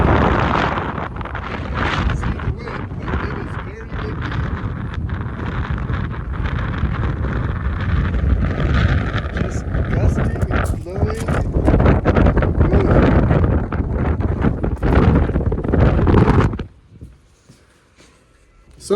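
Strong wind blows outside an open shop door on a cold day, a steady loud broadband roar with gusty buffeting for most of the stretch, then cutting off abruptly near the end as the door closes.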